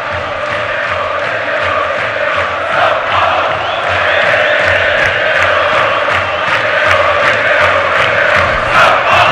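São Paulo supporters fill the Morumbi stadium at a Copa Libertadores quarter-final with a loud, sustained crowd roar of chanting and whoops, rising slightly and staying dense throughout.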